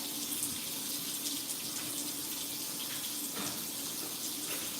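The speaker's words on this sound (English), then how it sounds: "Let's get some hot water in this sink" Hot water runs from a tap into a sink in a steady, close hiss, splashing continuously at an even level for several seconds with no talking.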